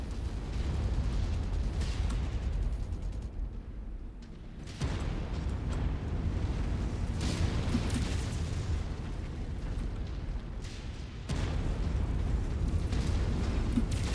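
Explosions from destroyed targets during a MechWarrior 5 battle: heavy rumbling blasts roll on almost without break, with a few short drops between bursts. Loud and close, and no voice is heard.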